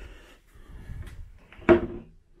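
A cabin drawer on a cruise ship slides with a soft rumble, then bangs shut sharply near the end, close and fairly quiet.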